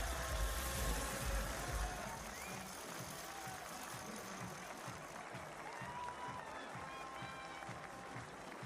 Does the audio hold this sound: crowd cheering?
yes